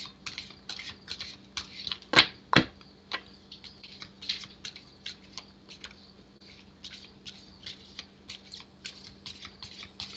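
Rapid papery clicks and riffles of playing cards being shuffled close by, in quick bursts with a couple of sharper snaps, against a faint hum.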